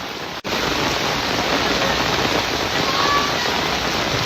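Heavy downpour in Narsi village with flooded streets, a dense, steady hiss of rain pounding surfaces, loud and unbroken throughout after a momentary dropout at the start.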